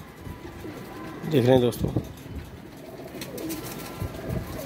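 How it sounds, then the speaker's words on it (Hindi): Qalandari pigeons coo in a short burst of rising, warbling calls, close and clear, with someone speaking over them and lighter bird sounds continuing beneath. "कलंदरी कबूतर माशाल्लाह"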